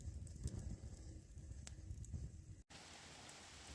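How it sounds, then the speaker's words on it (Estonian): Steady rain falling at a campfire site in a bog, a soft, even patter close by. A few brief sharp drops or taps stand out, and after a short cut the sound turns to a brighter hiss. "Taas hakkas vihma sadama."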